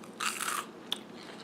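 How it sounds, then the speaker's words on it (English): A brief crisp crunch of biting into powdered funnel cake fries, followed by a single sharp snap, close and quiet. "That's the crunch we'll be waiting for as a kid."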